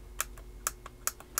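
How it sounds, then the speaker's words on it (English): A small switch clicks on a Volkswagen T1 Samba camper van scale model. The clicks are faint, close and crisp, coming in quick pairs about five times over a quiet background. "Test out the switch, and you can hear it."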